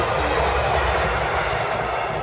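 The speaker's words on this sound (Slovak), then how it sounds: "Áno, bývame na stanici vlakovej, a čo?" A train rumbles at a railway station with a steady, dense roar and a faint high-pitched squeal from the wheels. No voices are heard.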